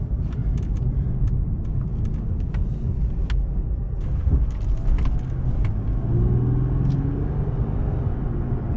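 A torquey car with sporty suspension pulls hard on a test drive, its engine rumbling and rising in pitch as it accelerates, close and steady with the low drone of road noise.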